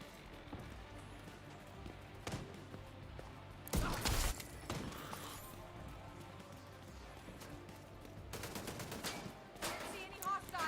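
Bursts of gunfire aimed at a turret in The Division 2, with sharp cracks near 4 seconds and a rapid string of shots around 8.5 to 9.5 seconds over a steady game background.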